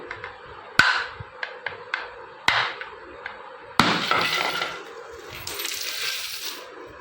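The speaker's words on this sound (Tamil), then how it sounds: "எந்த இடத்துல தட்டினா பாதியாக உடையன்னு தெரியல" A coin bank is struck and cracked open, giving several sharp knocks and cracks spaced apart, then a rattling, clinking spill of coins at close range.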